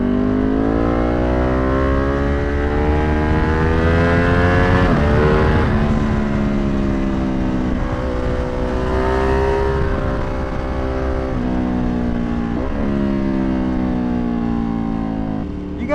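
A tuned Ducati Panigale V2 motorcycle engine revs loud and close on a street ride, its pitch climbing and dropping through several throttle swells in a continuous, unbroken roar.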